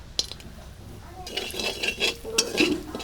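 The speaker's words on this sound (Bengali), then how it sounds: "ফোড়নটা একটু ভেজে নেবো হালকা করে" Whole garam masala tempering frying in a kadai for alur dom, with clinks of a spoon against the pan over a low, uneven sizzle that grows louder toward the end.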